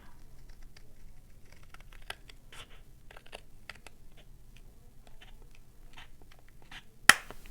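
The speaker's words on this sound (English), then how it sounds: "I'm going to take some scissors" Quiet, close scissors snipping paper in a series of short cuts, ending with a sharper snap.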